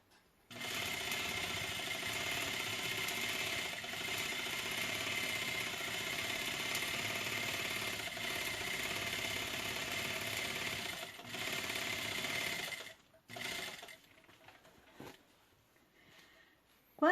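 Sewing machine runs steadily for about twelve seconds while stitching fabric for a bread holder, a close, even motor whir that stops abruptly, followed by a couple of brief handling noises.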